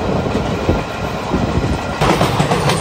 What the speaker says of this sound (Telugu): సో ఇక్కడ ట్రైన్ అయితే వెళ్తుంది కదా